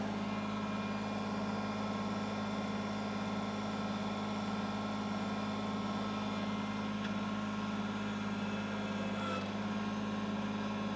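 A Kubota BX23S compact tractor engine hums at a steady, continuous idle, faint and even with a low droning tone and no breaks.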